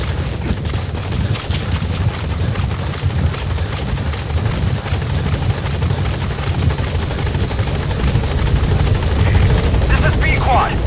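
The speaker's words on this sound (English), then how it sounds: "Support helicopter has arrived." A support helicopter arrives at a landing zone in Metal Gear Solid V: The Phantom Pain, its heavy rotor thrum and engine roar loud and constant throughout, close overhead.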